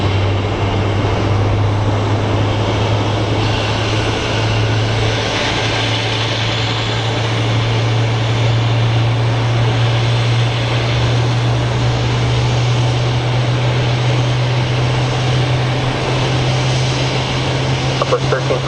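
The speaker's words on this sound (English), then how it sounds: "Up next is a Horizon Air Embraer 175 coming from San Francisco" A Horizon Air Embraer 175 jet at Phoenix Sky Harbor airport gives a sustained engine roar with a steady low drone, continuous and fairly loud, with faint radio chatter mixed in.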